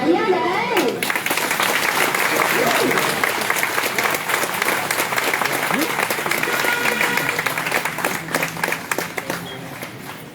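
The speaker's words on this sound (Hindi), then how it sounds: "तालियां बज रही है पुरुष वर्ग की तरफ से भाई।" Sustained applause from the men's side of the audience at an outdoor yoga event in Basti district, a dense clapping wash lasting several seconds before thinning out.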